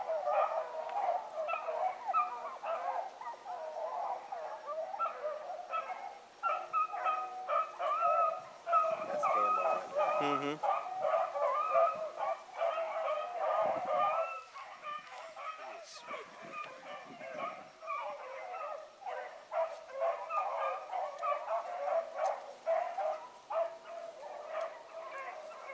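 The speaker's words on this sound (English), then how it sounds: "I hope y'all can hear them on video down in there pounding it." Pack of hunting dogs baying and bawling as they run a trail through the woods, steady overlapping barks and howls at a moderate distance that carry on without a break.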